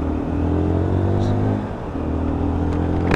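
A brand-new Lexmoto ISCA 125cc motorcycle pulls out into traffic, its engine droning steadily and rising slightly as it accelerates, loud and close throughout with a brief dip midway and faint background noise.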